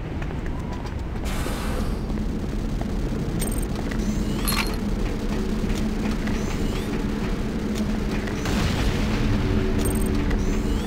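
A deep, sustained rumble from the destroyed GDI weapons factory in the Renegade game fills the whole span, with heavy low booming and a few brief sharp metallic blasts layered over a constant roar.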